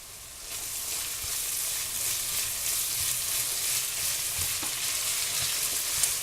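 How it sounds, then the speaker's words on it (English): Minced garlic frying in a pan for American goulash, a loud, even, close sizzle that holds steady throughout with faint stirring knocks and no voices. "I'm going to add some minced garlic, about 3 cloves"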